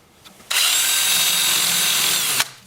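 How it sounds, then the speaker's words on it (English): A 2-inch sanding disc on a power tool grinds steadily against a sycamore wood bowl at 80 grit, starting abruptly, holding a loud, even whine for about two seconds, then cutting off. "And then I will switch to my 2-inch disc starting at 80 grit, and I'll sand all the bottom and in here."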